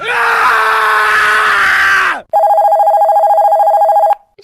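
A telephone rings in a Hindi drama scene: a first long, loud electronic burst with a harsh, scream-like edge lasts about two seconds, then a steady trilling ring follows after a short gap, with no voices.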